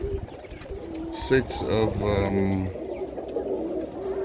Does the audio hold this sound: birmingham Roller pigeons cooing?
yes